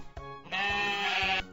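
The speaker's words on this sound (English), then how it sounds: "Sheep." A single sheep bleats once, a clear wavering cry heard close and alone after a couple of short clicks, lasting about a second.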